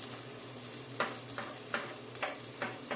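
Garlic sizzling in a hot pan for avocado soup, a steady quiet fry with a string of soft stirring scrapes at a regular pace, no talking.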